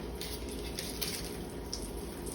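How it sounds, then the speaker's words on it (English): Steady crackling sizzle of breaded pork frying in hot oil, continuous and close, with no voices. "Sizzling."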